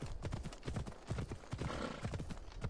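A horse gallops in Assassin's Creed Odyssey, its hooves beating a steady, rapid clip-clop close up, with faint background sounds underneath.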